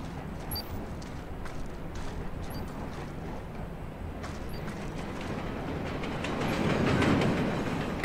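Subway train in Splinter Cell Blacklist rolling steadily along its tracks, a continuous near rumble with faint clatter that swells slightly louder toward the end, no voices.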